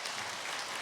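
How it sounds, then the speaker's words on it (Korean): A church congregation at a Sunday daytime worship service applauds in a brief, dense burst of steady clapping. "여러분 박수로 축복해 주시면 감사하겠습니다"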